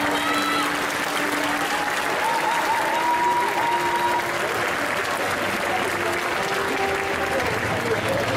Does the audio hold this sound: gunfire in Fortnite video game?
no